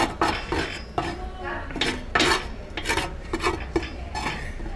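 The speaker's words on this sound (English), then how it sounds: "scrape the pan clean, and then get all those little caramelized bits that are left in the bottom of the pan" Metal utensil scraping across the bottom of a pan of leftover Korean food, a series of repeated rasping strokes with light clinks, close and fairly loud, no talking.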